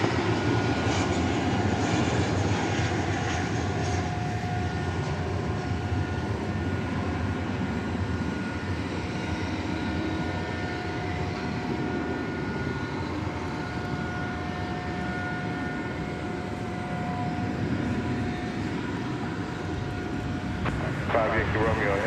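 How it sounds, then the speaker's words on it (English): An American Airlines plane arriving from Phoenix at DFW airport rumbles in a broad, sustained engine roar with a faint whine, heard from a distance while a voice talks over it. "an American Airlines plane coming in from Phoenix, flight 439"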